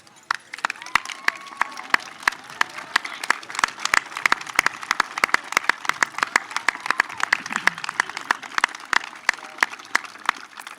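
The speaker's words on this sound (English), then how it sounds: "give them a round of applause" A graduation audience claps for the families in a large hall. Many sharp individual claps build into scattered, fairly close applause that keeps going throughout, with some crowd murmur underneath.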